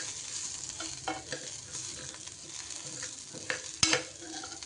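Onions added to cooked dal for a spinach kootu, giving a soft steady sizzle with brief stirring scrapes and a sharper clatter near the end, quiet and close with no talk.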